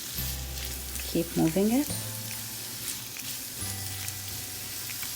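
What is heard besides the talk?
frying in a pan for mujadara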